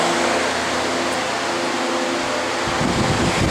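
A Dayton Industrial pedestal fan runs with a loud, steady broadband whoosh of moving air and a low motor hum, recorded close with some wind buffeting on the microphone.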